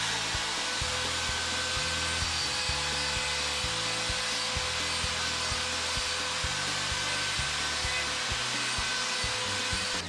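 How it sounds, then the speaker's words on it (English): Power grinder enlarging a hole in a steel bracket for the wheels of a cheap two-stage transmission jack, a loud continuous high whine and rasp that holds steady and close for the whole stretch. "So we're gonna try to grind this hole a little bit bigger."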